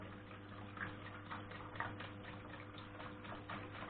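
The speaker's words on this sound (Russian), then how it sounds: "я заливаю воду" Water trickles and splashes faintly as it is poured into a washing machine, with a low steady hum and soft irregular ticking beneath it, no talking.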